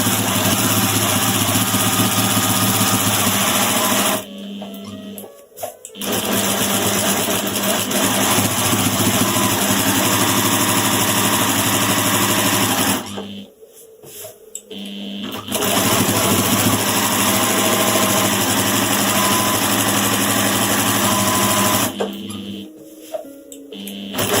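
A sewing machine runs in long steady stretches while stitching rows across a quilt, a loud continuous mechanical whir that stops briefly three times between rows, with no talking.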